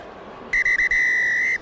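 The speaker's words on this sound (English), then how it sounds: "a long blast on the whistle of Wayne Barnes" A rugby referee, Wayne Barnes, blows the full-time whistle at Murrayfield in Scotland versus the All Blacks. Two short pips are followed by one long, piercing blast that holds steady for about seven tenths of a second over a faint crowd murmur.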